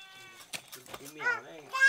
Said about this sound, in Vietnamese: Đấy là con cú mèo à?